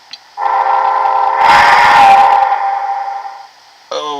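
A model locomotive's sound-decoder horn (loco 3422) blows one loud, sustained multi-tone blast for about three seconds, close and alone, with a brief second sounding starting at the end.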